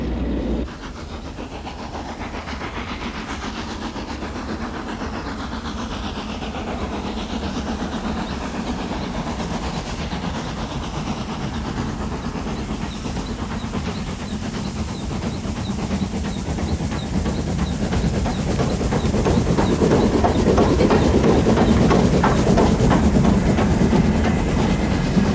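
Flying Scotsman steam locomotive passing with a train of coaches on its Australian tour, a steady rolling rumble with rail clatter and hiss that swells louder toward the end as it draws near.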